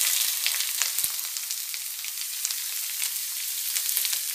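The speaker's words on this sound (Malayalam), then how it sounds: "ഇതിലേക്ക് ഇഞ്ചി ഇട്ട് കൊടുക്കാം" Finely chopped ginger, about 150 grams, frying in a hot pan for puli inji, a steady bright crackling sizzle that carries on throughout at moderate loudness, close by and with no voices.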